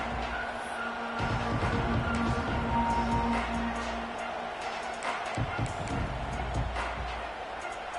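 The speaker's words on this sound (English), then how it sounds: "This crowd ready to make its presence known." Steady stadium crowd roar with scattered cheering from the NCAA 26 college football video game, a broad continuous wash that swells slightly and runs beneath commentary throughout.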